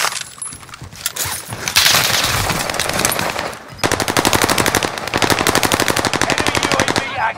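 Rapid automatic gunfire crackles in a Call of Duty match, irregular bursts at first and then long, fast, loud rattling strings of shots close at hand.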